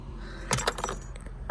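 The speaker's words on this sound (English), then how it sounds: "Drop the keys down in here." Keys jangle and clink in a short burst as they drop into the interior of a Ford Fox-body Mustang under restoration, close and fairly loud against a low background hum.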